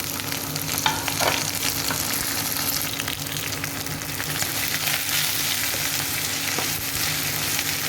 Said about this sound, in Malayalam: ഇനി നമുക്ക് ഇതിലേക്ക് ബാക്കിയുള്ള പച്ചക്കറികളെല്ലാം കൂടി ഇട്ട് കൊടുക്കാം